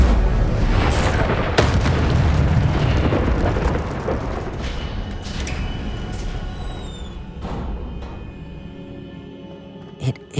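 An Incendio fire spell bursts in Hogwarts Legacy, a loud, heavy boom that rumbles on and slowly fades over several seconds with a few crackling pops, ending in a small late thump.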